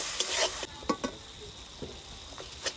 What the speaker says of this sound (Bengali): এবার এইটা একটু কষিয়ে নেব যাতে আদার কাঁচা গন্ধটা চলে যায়